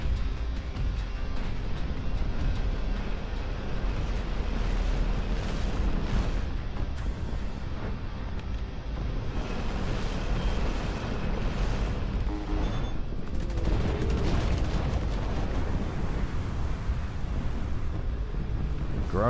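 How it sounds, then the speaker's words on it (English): Bomber airstrikes pound the battlefield in the Dust Front RTS game, a dense, continuous roar of overlapping booms and rumbling detonations that holds loud throughout. "You get 3 airstrikes at the start"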